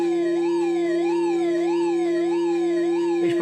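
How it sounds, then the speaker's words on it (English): A loud police car siren in a video game wails in a steady, regular up-and-down rise and fall, continuous and close, with no talking. "You can hear the siren of the police car behind me."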